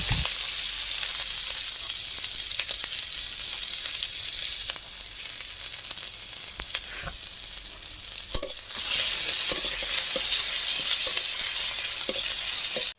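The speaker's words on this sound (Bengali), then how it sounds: "কড়াইয়ের মধ্যে একটা তেল দিয়ে তারপরে দিয়ে দেবো কিছু তেজপাতা পাঁচ ফোড়ন শুকনো লঙ্কা আর পেঁয়াজ কুচি দিয়ে ভালো করে নাড়িয়ে নেব" Bay leaves, panch phoron, dry chilli and chopped onion frying in oil in a kadai, a loud continuous sizzle with stirring scrapes throughout, briefly quieter midway before surging again.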